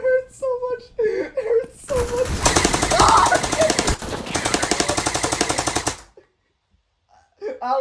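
Rapid automatic gunfire from the video game CSGO rattles loudly in a dense burst for about four seconds, framed by a man's whimpering, pained voice before and after.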